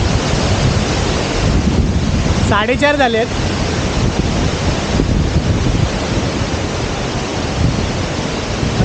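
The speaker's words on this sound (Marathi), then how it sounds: "हा वाऱ्याचा आवाज आहे." Strong wind roars across an exposed hilltop on a forest trek to Gupt Bhimashankar, a loud, continuous rushing like a waterfall, with someone speaking briefly midway.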